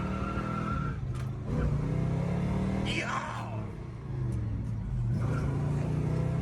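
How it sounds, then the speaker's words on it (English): An old Chevy car drives on a country road, engine droning low and steady while revving and swelling, with a brief rising whine near the middle; a voice speaks briefly. "They're perfect to get in your old car, your old Chevy, and just haul ass."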